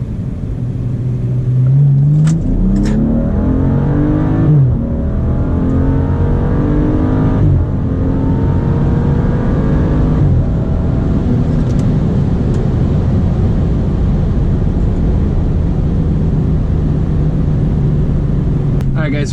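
A BMW F30 accelerates hard in second gear from a roll, its engine note climbing steadily in a loud, rising drone with a brief shift near the start, heard from inside the car with road rumble underneath.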